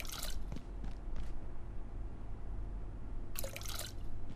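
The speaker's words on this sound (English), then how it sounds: "pouring more water, and then boiling more water" Water pours and drips into a container in Abiotic Factor, a steady liquid wash with a few sharp splashy bursts near the start and again later.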